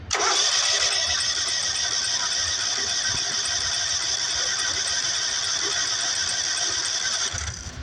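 A John Deere LT180 lawn tractor engine cranks and runs with a loud, steady droning roar that holds for several seconds close by, then cuts off near the end.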